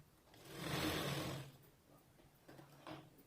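A sewing machine stitching a blouse runs in one smooth whirring burst of about a second, then falls quiet, with a couple of faint mechanical ticks afterward.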